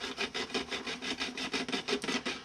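Steady back-and-forth cutting and filing on brittle plastic during a roof swap on a 1962 Fairlane, about a dozen quick raspy strokes in an even rhythm, close and moderately loud, no voices.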